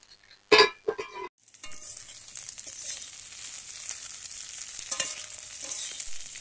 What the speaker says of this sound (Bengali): কুদলিগুলোকে একটু ভালো করে ভেজে নেব কড়াইতে